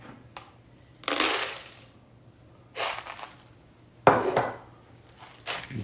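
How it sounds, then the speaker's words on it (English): Gravel and small stones of plus-15 material being worked in a gold pan, rattling and grinding in three or four separate bursts with quiet gaps between, fairly close. "We will start by panning our bigger stuff here, our plus 15 first."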